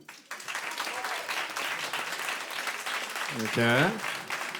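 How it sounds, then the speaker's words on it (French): Studio audience applauds to vote for a contestant in a French game segment, a steady broadband wash of clapping throughout, with a voice briefly speaking over it near the end. "Un avis par applaudissement."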